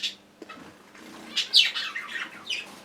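Pet birds in a home breeding setup, including a cinnamon green cock and a grey hen, give scattered bright chirps and tweets, some close and loud, over a quiet room with faint flutters.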